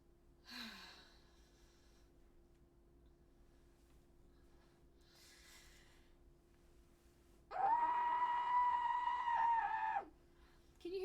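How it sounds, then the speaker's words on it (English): A person screams into a pillow, giving a muffled, strained cry that holds for about two seconds. Faint breathy sounds come earlier over a quiet background hum. "Can you hear me screaming through the pillow?"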